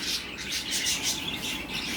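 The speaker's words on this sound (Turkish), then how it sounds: "Burada da bir çift sultanımız var. Sultan deyince hemen ötüyorlar." A pair of cockatiels in a pet shop give repeated bright chirps and whistled calls, close and fairly clear over a faint room hum, with no talking.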